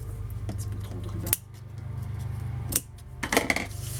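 Scissors cutting ribbon for a scrapbooking clasp, a few sharp snips and metallic clicks of the blades closing, close and crisp over a low steady hum, with no talk.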